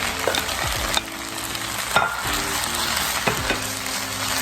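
Shrimp frying in a hot pan for fried rice, a loud, close, continuous sizzle with crackling bursts and a few utensil knocks, no talk.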